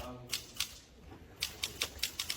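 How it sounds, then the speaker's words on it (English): A typewriter clacks in a classroom, bursts of crisp key strikes in uneven clusters, some in quick runs, with quiet gaps between. "a student brought in a typewriter because his professor didn't allow laptops in the classroom."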